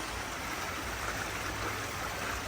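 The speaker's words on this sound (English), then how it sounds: "nice mountain stream today. Flowing really well." A mountain stream flows strongly beside a bridge on the Appalachian Trail in New York. The water makes a constant, even rushing and gurgling wash at moderate volume with no talking.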